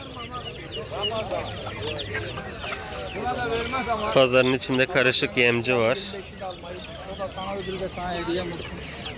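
Mixed poultry at a busy bird market in Adana, with chickens, turkeys and pigeons clucking and calling near and far, while someone talks over the birds throughout.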